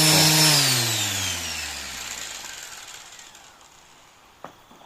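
A rotary tool fitted with a polishing disc works an engine block, its loud whirring whine winding down and fading over several seconds, ending with a brief knock.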